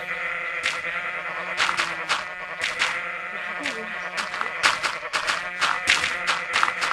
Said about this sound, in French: Appelle des chèvres! Venez à moi, les chèvres!